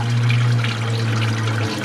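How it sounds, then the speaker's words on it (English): Water flushed through the water pump of a Classic Mini Clubman Estate, a loud, steady gush and splash of liquid close by, running continuously with a low hum underneath. "we'll flow it out the back of the water pump, and hopefully the water pump's clear then"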